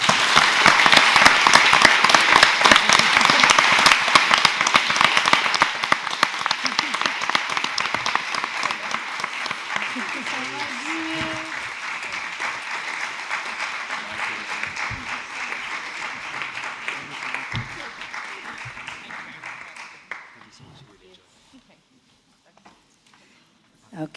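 An audience applauds at the finals of an international mediation competition, dense sustained clapping that starts loud, slowly thins over about twenty seconds and fades to a few scattered claps.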